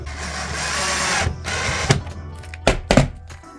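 A power screwdriver whirs for a few seconds, then short bursts and thunks follow as hinges are screwed onto a bunk bed hatch, close by and fairly loud.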